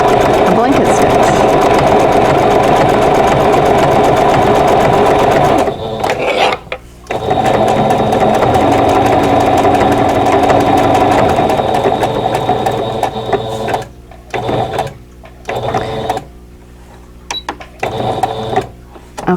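A sewing machine runs up close, stitching a blanket stitch around appliqué on Christmas cottage quilt blocks in a loud, steady mechanical whir. The run pauses briefly several times near the end.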